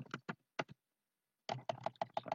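Bursts of typing on a computer keyboard while filling in product details in a Microsoft Access form, with two quick clusters of key presses, a short pause, then a longer run of close, distinct clicks.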